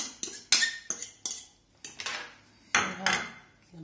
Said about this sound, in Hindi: सबसे पहले हम अपने दही को अपने चिकन में डाल लेते हैं।